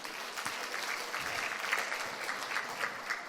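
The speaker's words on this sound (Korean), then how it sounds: "뜨거운 박수 부탁드립니다." An audience at the 13th Ulsan tea culture festival in 2022 applauds, a steady, fairly faint wash of many clapping hands that holds evenly throughout with no voices standing out.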